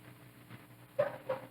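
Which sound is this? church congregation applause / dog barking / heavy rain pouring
dog barking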